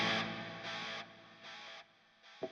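Electric guitar through the P34 Powerful effects preset, heavily distorted chords with delay repeats, a loud sustained strum followed by echoing repeats fading in successive bursts, then a final short pick sound, with no voices.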